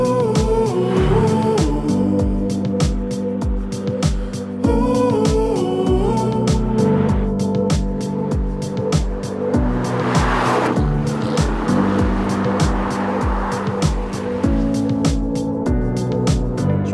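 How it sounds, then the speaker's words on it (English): A 2018 Aston Martin Vantage V8 being driven, its engine note loud and close throughout with steady harmonic drone and several clear gear changes, no talking. "So I'm behind the wheel of the new Aston Martin Vantage."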